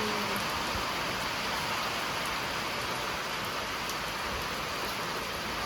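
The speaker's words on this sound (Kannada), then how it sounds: "ಮಳೆ ಬೇರೆ ಬರ್ತಾ ಇದೆ ಕೇಳಿಸ್ತಿಲ್ಲ ಮಾತಾಡೋದು" Steady, heavy rain pouring down in a continuous hiss, loud and close, with no voices, during crab handling for export.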